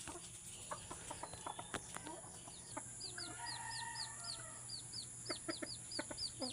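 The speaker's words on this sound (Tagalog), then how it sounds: "He's with the black chicken." Chickens, including a black hen and a rooster, cluck and chirp in quick repeated bursts close by, with short high calls overlapping against a steady background hum.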